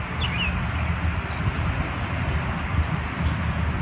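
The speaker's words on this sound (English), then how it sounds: "This is live audio from the outdoors." Outdoor ambience picked up by a microphone in a parking lot: a steady low rumble of distant traffic or engines, with no voices and no distinct nearby events.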